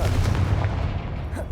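The Confringo blasting spell in Hogwarts Legacy goes off as a loud, dense burst of booming, crackling explosions that roll on and slowly fade, with no talk.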